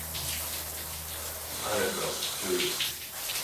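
Hot water runs in a shower, a steady broadband hiss of spray at moderate level, with faint muffled voice-like sounds partway through.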